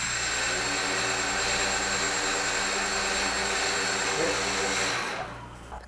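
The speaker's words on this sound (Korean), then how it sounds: "그 프로펠러가 도는 속도가 굉장히 빠르네요." Four motors spinning the propellers of a small quadcopter built in a university mechanical and aerospace engineering lab, giving a steady, loud, close high-pitched whine with layered tonal harmonics that fades at the end.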